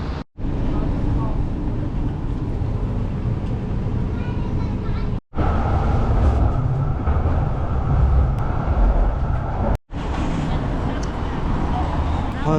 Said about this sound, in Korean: 한 40분 정도 트램 타고 이제 내렸습니다.